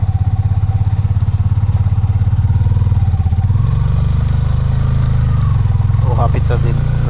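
A motorcycle engine drones steadily up close with a low, pulsing rumble, riding along a muddy rural road in Leyte with some clatter and a faint voice toward the end.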